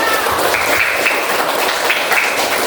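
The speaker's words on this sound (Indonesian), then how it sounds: "minta bantuan tepuk tangannya buat kalian semua" A classroom of students claps together, a dense, steady applause of many hands that continues evenly throughout without any talking.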